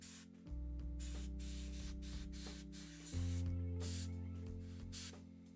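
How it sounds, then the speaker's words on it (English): Airbrush blowing mud product through a wide flat brush onto a 1/35 scale Staghound model, a continuous close hiss that swells in two bursts over a low hum, no talk. "spray things like mud products through a wide flat brush with an airbrush"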